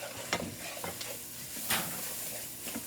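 Seasoned flour being stirred into gravy in a pan for a cracklin cornbread meal, with soft scraping stir strokes over a low, steady sizzle, a few louder scrapes standing out, no talking.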